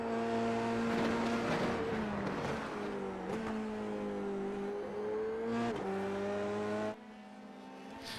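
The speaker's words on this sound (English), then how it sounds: "Every corner it's scraping at the front." An F3 race car at Zandvoort in a racing video game drones at a steady engine pitch that dips and rises through corners, with rough scraping noise from the floor on the curbs layered over the engine.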